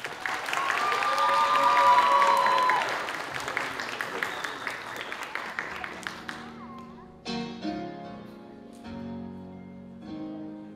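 Loud audience applause and cheering fill a convention cosplay stage at a game summit, steady and dense for several seconds, then thinning into scattered claps as music and other sounds take over.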